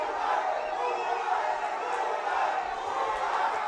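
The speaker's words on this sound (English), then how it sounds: "The crowd making noise, and PUAS lands a big right that moves back the head of Guerrero." A boxing arena crowd roars in a steady, dense wash of cheering and shouting, loud and continuous without a break.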